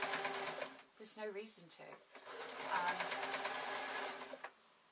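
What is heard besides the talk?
sewing machine stitching a flowing shirt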